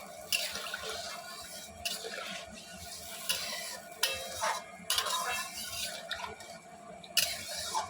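Boiled hot water poured into a thin hilsa fish curry with whole green chillies, a close, steady watery splashing and trickling with soft drips and clinks throughout.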